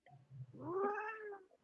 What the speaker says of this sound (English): Look at this kitty cat.